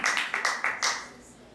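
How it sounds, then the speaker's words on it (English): A few people clap for the kids at a Snan Yatra temple gathering, a handful of sharp, spaced claps over about a second that fade into quiet. "Let's give them a round of applause."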